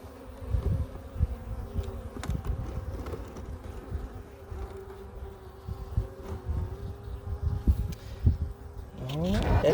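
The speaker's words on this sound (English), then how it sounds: "I got bees going up my shirt" Bees buzz steadily around an open top-bar hive during an outdoor inspection, a dense close hum with occasional louder passes near the listener, and a brief clatter of handling near the end.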